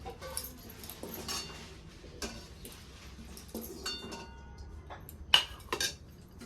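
Roasted dried coconut is scraped from a pan into a plate with a spoon, giving light, scattered metallic clinks and scrapes at close range, with quiet pauses between the taps.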